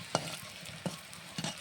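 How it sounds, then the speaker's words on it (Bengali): Small puti fish crisping in hot mustard oil, a soft continuous sizzle broken by three sharp scraping stirs spaced across the moment, close but fairly quiet, with no voices. "আস্তে আস্তে মুচমুচ করে ভাজা হবে"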